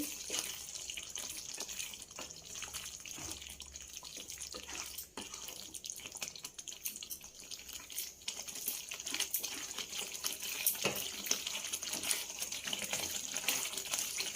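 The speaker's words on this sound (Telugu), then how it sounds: "కొద్దిగా వాటర్ వేసుకున్నాం" Water pours steadily from a tap or jug into a pan of egg gravy curry, a continuous quiet splashing stream that runs the whole time with no talk.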